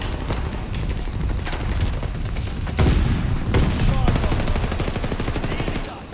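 Rapid sprays of video game gunfire crack out in dense bursts, with a heavier thump near the middle, loud and close throughout.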